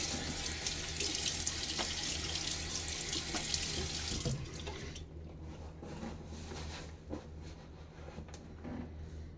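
Water runs steadily from a tap for a few seconds, a broad hiss that cuts off partway, leaving quieter dripping and handling noises.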